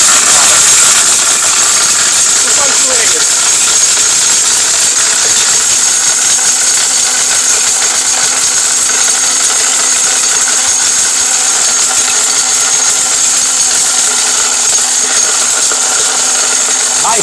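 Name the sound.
high power blender grinding turmeric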